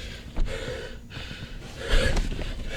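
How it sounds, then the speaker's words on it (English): Heavy, labored breathing of a fighter during a CarJitsu match inside a car, with audible gasps and snorting breaths in an uneven rhythm, close and moderately loud. "the breathing is becoming more and more labored throughout the match."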